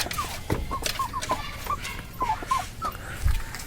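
Hilly chickens and a young bearded rooster cluck softly in short, repeated calls at an uneven pace, with no talking.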